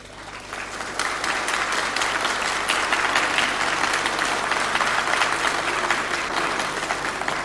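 Applause fills a parliament chamber, a dense, sustained roar of many hands clapping at once, loud and even for the whole stretch with no speech.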